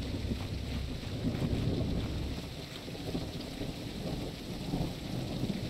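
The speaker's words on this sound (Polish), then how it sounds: "Mamy brzydką burzę" Thunderstorm with steady heavy rain and rolling thunder in the survival-building video game Tribe: Primitive Builder, a dense continuous roar with low rumbles swelling and fading throughout, no talking.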